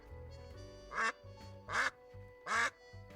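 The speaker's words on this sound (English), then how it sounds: "You can make the duck quack," A cartoon duck in the detective video game Duck Detective: The Secret Salami quacks three times at even intervals, loud nasal squawks over a low, steady backing soundtrack.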